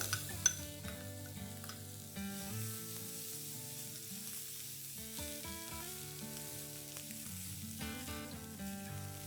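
Chopped onion and finely cut curry leaves with a little turmeric fry in a pan, giving a soft, steady sizzle with occasional stirring clinks, quiet and close, with no talking.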